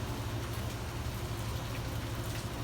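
Rain coming down in Key West, an unbroken wash of patter and hiss over a low rumble, close and steady from start to finish, with no speech.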